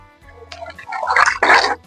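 Rainwater pours onto garden plants in two short splashing bursts, close and fairly loud against near silence.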